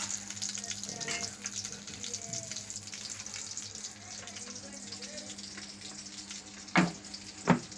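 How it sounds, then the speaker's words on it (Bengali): Banana fritters frying in hot oil at a village festival kitchen, giving a soft, continuous bubbling sizzle at a moderate distance, with a couple of sharper clatters near the end. "এই যে কলার বড়া ভাজা শুরু করছে।"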